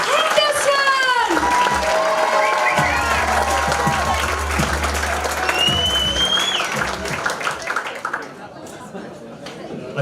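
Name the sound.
comedy audience applauding and cheering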